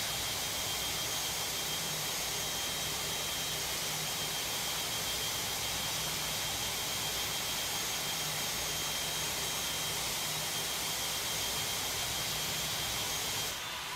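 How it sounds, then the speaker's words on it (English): Jet airliner taking off in the video game Tower Simulator 3, a steady loud roaring engine rush that holds constant and dense throughout, with no talk over it. "Emirates Niner 21 Heavy, runway 12 right, cleared for takeoff."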